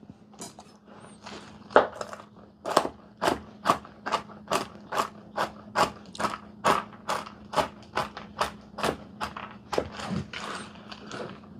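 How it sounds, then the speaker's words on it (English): A knife chops pecans on a cutting board in a home kitchen: about twenty crisp, evenly spaced crunchy strikes, close and distinct, with no talking. "Let me chop up some of these pecans."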